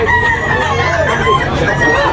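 Rooster crowing amid a busy poultry market in Tabunok, Talisay, Cebu, with clucking chickens and crowd babble around it; the crow rises clearly over a steady, dense background of market noise.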